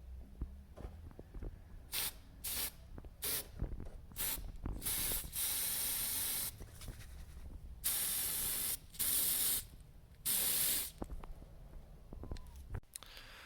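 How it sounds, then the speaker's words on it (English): Several bursts of aerosol spray hiss onto pliers, some short and some held for a second or so, with faint clicks and handling noise between them. "I've got the can. I'm just going to spray it."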